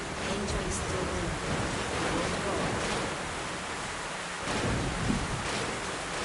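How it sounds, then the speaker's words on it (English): Heavy rain and rumbling thunder from a storm in the video game Metro Last Light Redux, a dense constant downpour with low booming swells, faint talk underneath. "Storm. Yes, the storm."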